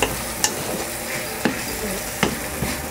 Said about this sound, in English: We're going to deglaze the pan.